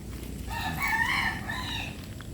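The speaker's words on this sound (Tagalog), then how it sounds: "Ito na yung mga sisiu." A rooster crows once at moderate distance on a farm with chickens, the call rising and falling over a low background murmur.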